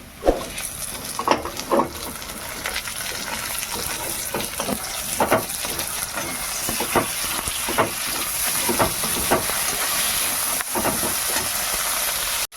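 Tomato sizzles with spices in a hot pan for a pumpkin and potato curry, a continuous close frying hiss broken by occasional stirring knocks and scrapes.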